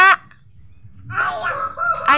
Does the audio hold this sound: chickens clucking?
yes